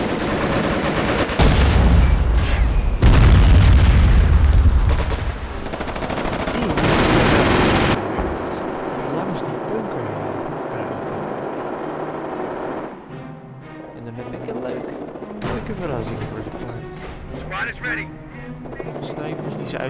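Sniper and machine-gun fire in the Company of Heroes Blitzkrieg mod, played on the Allied side, cracks and rattles at a loud, steady level with explosions and engine noise mixed in. Battle chatter and commands are heard over the shooting.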